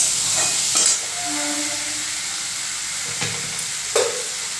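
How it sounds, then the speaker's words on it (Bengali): Garlic and turmeric frying in a pan for fish biryani, a soft steady sizzle with a few scraping stirs of a spoon against the pan. "এবার এটাকে ভালোভাবে নাড়তে হবে"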